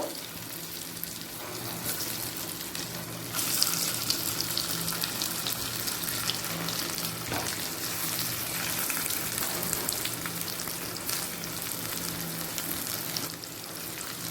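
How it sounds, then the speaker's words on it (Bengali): Potatoes fry in oil with a little turmeric, a steady close sizzle with crackling that swells a few seconds in and continues evenly without talk. "আলুটা আমি অল্প হলুদ দিয়ে ভেজে নিচ্ছি"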